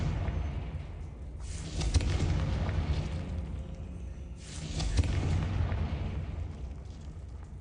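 Blasting-spell explosions in Hogwarts Legacy, two loud booming bursts a few seconds apart, each followed by a rumbling roar that fades under a constant background din.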